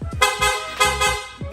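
A loud aftermarket PIAA horn on a Honda Click scooter blares in two long blasts, with brief low engine blips between and after them.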